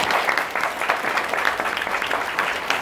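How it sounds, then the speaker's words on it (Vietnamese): An audience at a corporate gathering gives sustained applause for an advisor, a dense, even burst of many hands clapping that stays steady throughout. "Một tràng pháo tay cho bạn cố vấn của chúng ta."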